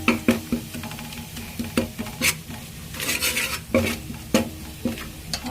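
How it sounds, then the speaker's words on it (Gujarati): A spoon stirs garlic chutney frying in a pan over a low flame, with rhythmic scraping strokes against the metal base, a light sizzle underneath, close and clear. "લસણની ચટણી હલાવી રાખવાની તો બળી જાય નીચે."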